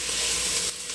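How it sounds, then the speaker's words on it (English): Beef bones sear in a hot pan for homemade beef stew, a steady, loud, close sizzle that holds evenly and eases slightly at the very end. "Right now I've just got my beef bones searing in the pan"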